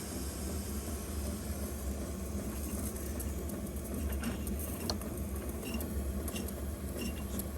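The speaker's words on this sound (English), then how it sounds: "So I'll get the Cyclops engine working, so we'll open up that one." A Cyclops live steam engine in a steam plant runs steadily, with a continuous mechanical churn and light ticking, clicking parts at moderate loudness, alone without talk.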